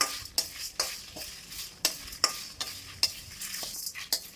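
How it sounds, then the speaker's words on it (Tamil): Pepper, sesame, coriander seeds and dried chilies are dry-roasted in a pan over a low flame, with a series of distinct metallic spatula scrapes and clinks at a loose, regular rhythm over a faint background hiss. "ஸ்லோவாக தீ வச்சு கருகாமல் பொன்னிறமாக நல்லா வறுத்து எடுத்துக்கலாம்"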